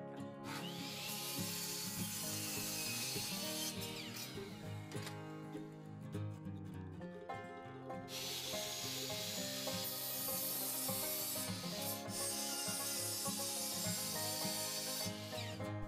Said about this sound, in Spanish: Voy a cortar algunos de estos listones